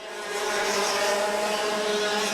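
Race car at Kart racing track passing slower traffic, a sustained high-revving engine drone that swells in as the car nears and holds steady at close range.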